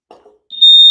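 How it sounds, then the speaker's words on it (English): A fire alarm going off during a building inspection: a brief low murmur, then a loud, steady, piercing electronic tone that begins midway and holds to the end. "they're doing like this fire alarm inspection"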